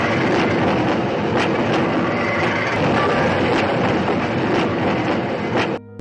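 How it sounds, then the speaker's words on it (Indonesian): Train running over rails at night, a steady loud rumble with rhythmic clickety-clack of wheels over track joints, continuous and close, ending abruptly. "Pada malam harinya, ketika kereta melewati beberapa persimpangan, mereka pun mulai melakukan aksinya."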